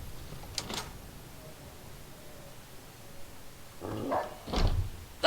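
In the Fallout New Vegas video game, a dog gives a couple of short barks, one early and one pair near the end, over quiet ambient background with no talking.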